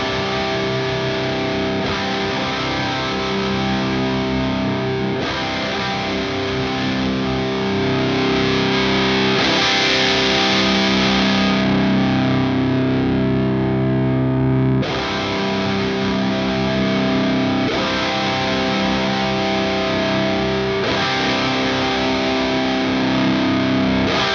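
Electric guitar through an Axe-Fx III running a Diezel VH4 amp model, with thick high-gain distortion playing sustained chugging riffs in repeated passes as the presence control is changed, loud and continuous without talk.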